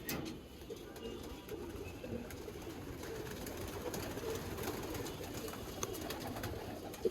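Tournament pigeons in a Mirpur loft, a female among them, keep up a soft continuous cooing murmur of many overlapping birds, without speech.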